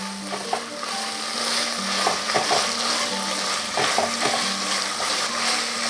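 Chopped onions fry in ghee in a rice pot, giving a steady sizzle with scraping and clinking as a spoon mixes them, close and continuous, with no voices.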